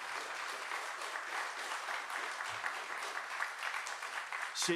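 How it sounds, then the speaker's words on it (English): An audience applauds at a U.S. Army 250th anniversary breakfast reception, steady, dense clapping from a crowd filling the room throughout, with a brief voice near the end. "A round of applause to Colonel Cantwell."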